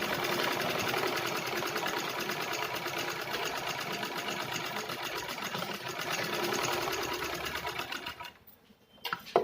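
A sewing machine stitches piping onto a fabric pocket organizer, running in a steady, rapid mechanical whir close up for several seconds before slowing and stopping with a few final clicks.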